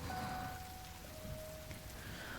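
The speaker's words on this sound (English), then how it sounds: "Heavy rain fell from the dark clouds, which covered even the tiniest scrap of the sky." Heavy rain falls in the video game Hero's Odyssey, a steady dense hiss of downpour with a faint tonal hum beneath, constant and unbroken throughout with no voices.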